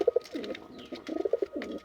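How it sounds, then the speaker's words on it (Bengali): An old, aggressive domestic pigeon coos close by in a few soft, throaty bursts, rising and falling in short rhythmic phrases, with no talking. "এই কবুতরটা হচ্ছে আমার সবথেকে পুরনো কবুতর"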